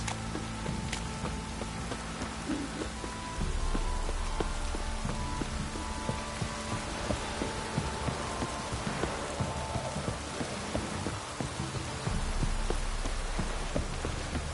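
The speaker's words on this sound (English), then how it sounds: "This downpour's a bastard," Steady downpour of rain in The Witcher video game, a dense continuous hiss of drops on surfaces with a low game music or ambience bed underneath, no talking.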